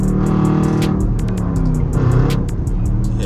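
An SRT Jeep at 50,000 miles, its strong engine revving while driving, a loud continuous roar with rising pitch and a brief surge near the end.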